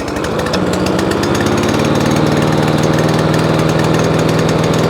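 A scrap lawn mower engine runs loud and close with its choke pulled off, a rough, rapid chugging idle that stays steady throughout.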